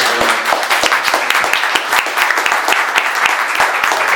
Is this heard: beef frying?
no